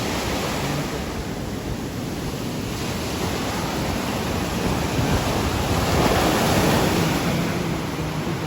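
Sea waves wash onto the beach at Bolinao, Pangasinan in a steady, broad surf roar, rising slightly in a swell near the end, with wind noise and no voices.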